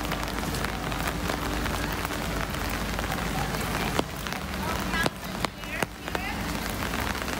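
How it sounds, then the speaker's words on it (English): Rain falls steadily at a beach in Hong Kong, a constant close patter on surfaces with a few sharper drips and knocks, while people speak over it. "Even though it's raining, it's still gorgeous."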